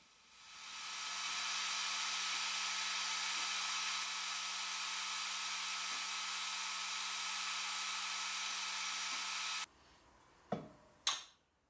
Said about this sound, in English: So I'm just using an abrasive wheel that fits into that little curvature.